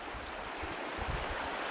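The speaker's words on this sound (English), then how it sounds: "we're back here at the fast water." Fast-flowing water of the Meander River, a steady soft rushing wash with low gurgles, faint and continuous throughout.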